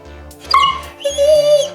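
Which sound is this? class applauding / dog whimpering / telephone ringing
dog whimpering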